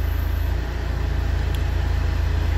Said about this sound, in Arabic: نسمع في الحس تاع الموتور تبدل